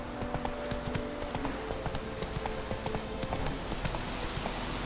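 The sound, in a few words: horse Roach galloping hooves, from video game Witcher 3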